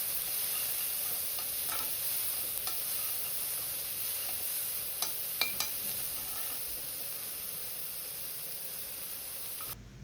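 Crushed shallots and garlic sautéing over low heat in a pan, a steady soft sizzle running throughout with a few faint stirring clicks near the middle and no talking.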